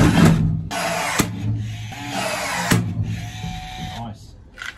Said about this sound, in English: So let's get these drilled and attached.